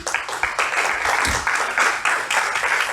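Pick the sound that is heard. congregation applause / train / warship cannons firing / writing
congregation applause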